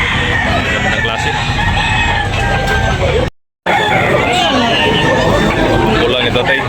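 Roosters and chickens crowd a busy poultry market in Tabunok, Talisay, with crowing and clucking running steadily under a constant babble of nearby voices and people talking.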